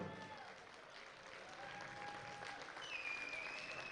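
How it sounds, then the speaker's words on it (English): An audience applauding powerlifting athletes at a national championship meet, a steady, fairly distant wash of clapping with faint crowd voices underneath. "Come on, give all of our athletes a big round of applause."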